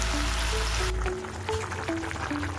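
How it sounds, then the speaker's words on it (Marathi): Hot water from a pan lid splashes and trickles into vegetables cooking for a bombil bhaji, a short pour that gives way to softer sizzling and bubbling. "झाकणामध्ये पाणी टाकून घेतलं होतं आणि ते पाणी गरम झाल्यावर मी भाजीमध्ये सोडलेलं आहे"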